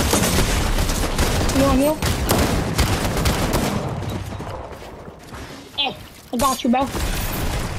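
Gunfire in the game Fortnite, loud rapid bursts of shots and impacts that fade briefly and then return in sharp volleys, with players talking over the shooting.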